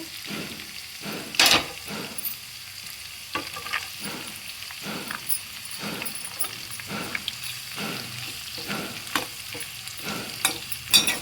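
Onions frying in a pan for a sabudana rice pulao, with a steady sizzle under repeated scraping strokes of a spatula at a regular rhythm, close and moderately loud with no talking.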